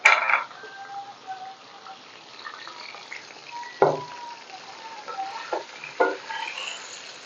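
Raw chicken pieces cooking in hot oil for a home-style chicken curry, a low steady sizzle with a few clinks of stirring near the start and around the middle, moderately quiet and without voices.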